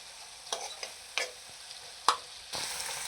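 Cashew curry with onion and tomato cooking in oil, quiet steady sizzle with a few soft stirring scrapes and a sharper knock partway through, no voices.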